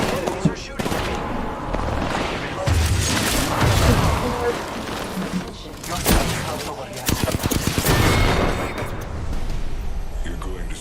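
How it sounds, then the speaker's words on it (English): Dense, loud video game gunfire with rapid bursts and booming shots, continuous and chaotic over a hum of battle noise, with a voice talking over it. "Enemies are shooting at me."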